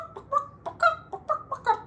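Chickens clucking and squawking in a series of short, choppy bursts, fairly close, with no talking.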